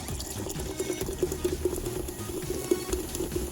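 Coke being poured into a cooking pot for a sweet homemade sauce, a steady liquid stream with a soft bubbling, fizzy texture and small splashes, close and moderately loud with no talking.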